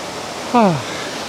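A mountain waterfall gives off a steady, even roar of rushing water, joined midway by one short downward-sliding voiced sound.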